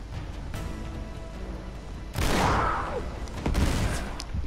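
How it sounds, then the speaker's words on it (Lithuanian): A loud explosion bursts in the Uncharted 3: Drake's Deception video game during a caravan sequence, a sudden broadband blast with a trailing roar, followed by a second sharp impact a second later amid game ambience. "Kas čia sprogo?"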